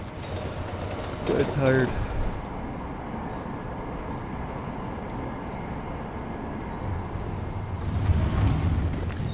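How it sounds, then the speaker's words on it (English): A subway train rumbles through a station in Deus Ex: Mankind Divided, a steady low roar running the whole time, swelling near the end, with someone briefly talking over it early on. "I love how the subway works also on the weekends,"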